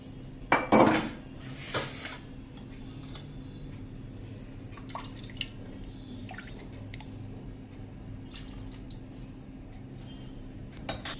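Someone handles a mixer jar, adding water to rinse out sprouted mung bean paste, with a few sharp clinks at the start, then quiet dripping and light knocks.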